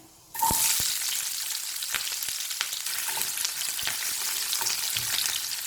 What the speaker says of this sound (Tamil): இப்போ தாளிச்சிட்டு வெங்காயம் தக்காளி வதக்கிக்கலாம்